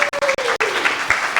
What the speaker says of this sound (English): please applaud the craziness out of one another